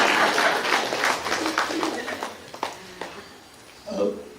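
Audience applause during an interview with actor Subodh Bhave, a burst of clapping that is strongest at first and then thins out over a few seconds.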